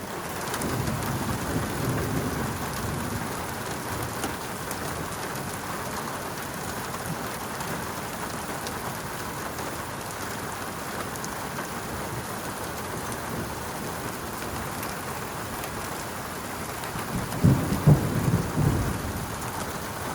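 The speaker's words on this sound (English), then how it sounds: "Dude, that's hail." Hail and heavy rain pounding during a thunderstorm in the Ouachita Mountains, a continuous dense roar with a louder burst of impacts near the end, no talk.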